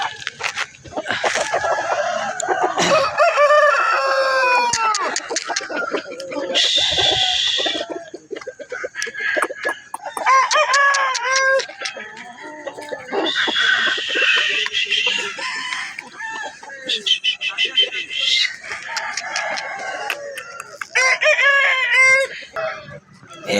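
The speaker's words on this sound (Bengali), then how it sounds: "এইখানে একটা দারুণ মুরগা আছে, অনেক বড় সাইজের ডালি মুরগা।" Roosters crow repeatedly and hens cluck at a busy Tuesday village livestock market in Balarampur, among them a large black-skinned Dali cock; the calls come close and loud, overlapping one another in a steady chorus.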